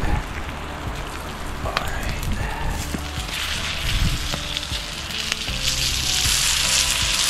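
Steak fries in a pan at a winter bushcraft camp, sizzling and crackling steadily at close range, with scattered pops and occasional clinks from cooking.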